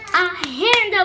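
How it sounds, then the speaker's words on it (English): A few sharp, close claps from kids applauding a teacher, separate slaps spaced through the moment while a voice talks over them. "So, y'all give your teacher a round of applause, man."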